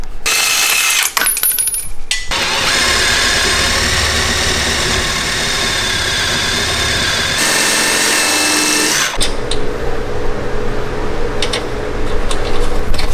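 A power tool whirs loudly in a long continuous burst, removing a lug nut from a Mazda Miata, then cuts off, leaving quieter clanks and shuffling.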